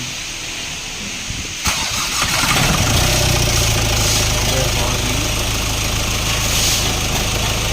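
A 2017 Ford Everest engine after a half overhaul cranks and catches, then settles into a steady, loud idle. A person speaks briefly over it.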